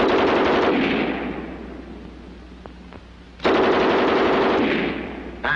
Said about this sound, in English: Now the German 34 on the bipod.